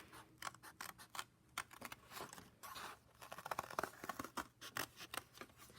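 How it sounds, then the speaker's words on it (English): Scissors snipping paper while cutting out lines for a paper weaving loom, a run of short, close crisp cuts in an uneven rhythm, with no talking. "So I'm going to take my scissors from the fold on the bottom, nice and slow, and cut out my lines."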